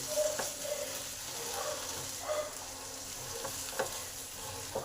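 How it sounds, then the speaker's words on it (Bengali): Fried bori and garam masala are stirred in a pan, a quiet steady sizzle broken by repeated spatula scrapes and taps at irregular intervals, with no voices. "এবার এই বড়ি ভাজা আর গরম মশলাটাকে ভালো করে এর সঙ্গে মিশিয়ে দিই"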